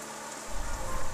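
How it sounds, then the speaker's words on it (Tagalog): Heavy rain pours steadily, a dense broadband hiss that thickens halfway through with a deeper drumming on a nearby surface. "Dahil sa lakas ng ulan at hindi tumitigil, nagdesisyon na tayong suungin ang napakalakas na ulan"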